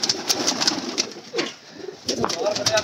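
Pigeons on a rooftop loft, a flock of around 150 to 200 birds, give low cooing calls in repeated soft bursts, with wing and bird noise mixed in and faint talk nearby.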